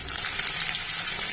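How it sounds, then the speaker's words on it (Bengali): Potatoes and tomato frying in a pan with oil, a steady close crackling sizzle with faint stirring scrapes, continuous and fairly loud throughout. "আলু লাল হয়ে ভাজা হয়ে এসছে, এবার একে একে সব মশলাগুলো দেব।"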